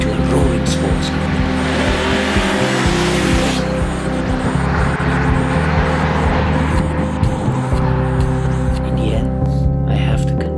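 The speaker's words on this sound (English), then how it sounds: "But when we want it, it will transform into a roaring sports car" A Skoda Superb 3.6 sedan's engine roars loudly and continuously, surging and revving with a sporty throaty tone and tire noise throughout.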